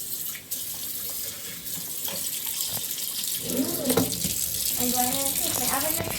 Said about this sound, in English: we're going to fill it with cold water.